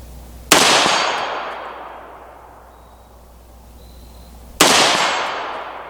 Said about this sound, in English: now our last shot of 3 with the Sierra match